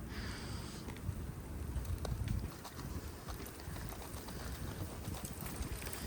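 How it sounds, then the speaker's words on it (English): Gusty wind buffets the microphone in a low, steady roar with rumbling bursts, continuous throughout and fairly loud. "I know it's windy."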